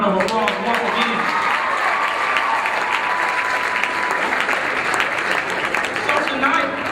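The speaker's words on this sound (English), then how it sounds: "Let's give him a round of applause once again." Audience applause at a university forum after a hip-hop artist is introduced, a dense and fairly loud wash of clapping that holds steady throughout, with a brief voice or tone near the start.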